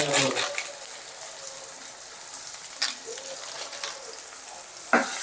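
Masala with turmeric and garam masala fries in a pan for a chicken gundakayi dish, giving a soft steady sizzle up close with occasional stirring scrapes and brief clinks, and a voice is heard briefly.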